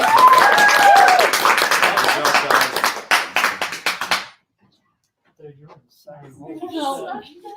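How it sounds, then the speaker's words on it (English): Applause and clapping from a crowd for about four seconds, fairly loud and dense, then it stops; faint voices and movement follow. "Round of applause for our digital."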